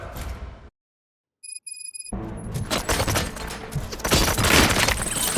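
Gunfire bursts in RoboCop: Rogue City arrive after a brief silence, with layered shots and impacts that grow denser and louder toward the end, beginning with a few sharp electronic tones.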